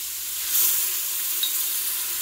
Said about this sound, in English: we're gonna saute for about 1 minute